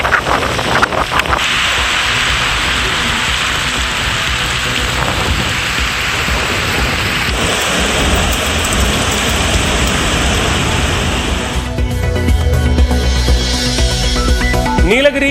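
Heavy rain from Cyclone Fengal pours down in a loud, unbroken roar near the Sathanur dam, with rumbling thunder, and the texture of the downpour shifts near the end.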